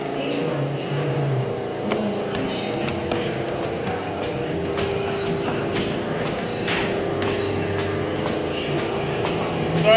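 Construction work inside a house under renovation, a continuous mix of rumbling machinery and scattered knocks and clatters, moderately loud and steady throughout, with no clear speech.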